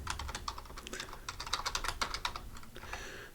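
Rapid, irregular clicking of typing on a computer keyboard, close and fairly quiet, with bursts of keystrokes and brief pauses.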